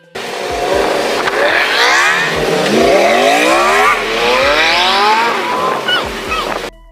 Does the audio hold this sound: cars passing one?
yes